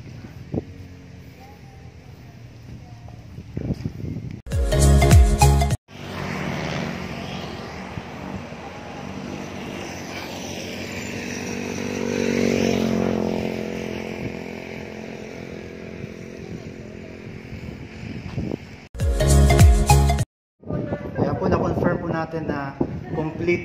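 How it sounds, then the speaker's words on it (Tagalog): Motorcycles, likely delivery riders, passing through a quiet housing village, a sustained engine drone rising and fading over several seconds, with someone talking and short bursts of loud handling noise. "Inarinig mo mga motor na yun,"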